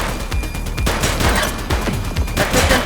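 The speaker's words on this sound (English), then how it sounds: "Shots fired!" Gunfire in the police game The Precinct: loud, close, rapid bursts of overlapping shots in quick succession, dense and continuous throughout.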